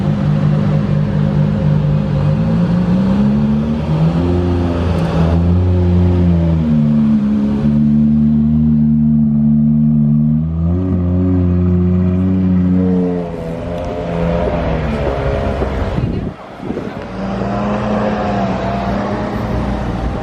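An Aston Martin One-77 supercar's engine idles loud and close, then revs through rising and falling pitch sweeps with a brief dip near the end before it settles into a steady, heavy rumble.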